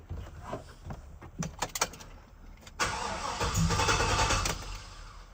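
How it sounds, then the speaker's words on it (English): A car that has sat unused for a week starts up indoors: a few clunks and cranking strokes, then the engine catches and settles into a loud, steady close idle. "I haven't had it started for like a week, so let's do like a lukewarm start"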